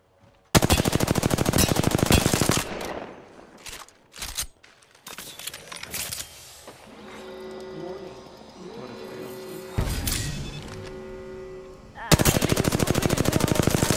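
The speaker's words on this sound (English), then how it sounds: "Opening fire on the enemies." Loud automatic gunfire from the video game Apex Legends rattles in long sustained bursts at the start and end, with quieter clanks and a steady mechanical hum between them.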